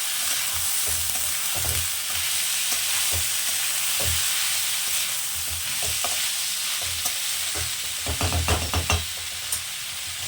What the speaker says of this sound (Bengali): চালটা দেওয়া হলে চালের সাথে কাজু কিশমিশটাকে ভালো করে ভেজে নিই